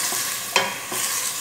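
Bitter gourd and sweet potato are mixed with calamansi, giving a brief scraping stir with a sharp clack partway through, close and fairly loud against a soft sizzling background.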